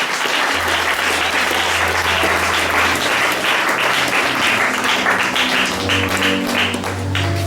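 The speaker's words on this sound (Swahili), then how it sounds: "Pigie Bwana Yesu makofi" Congregation applauding for Jesus during a Swahili church service, a dense, steady roll of many hands clapping together, loud and close, running unbroken throughout.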